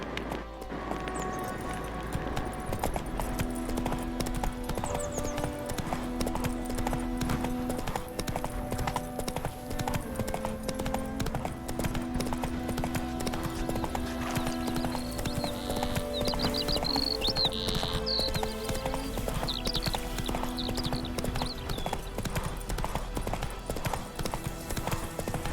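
Horse hooves clip-clop in a steady galloping rhythm throughout The Witcher 3, loud and close, with game music playing underneath.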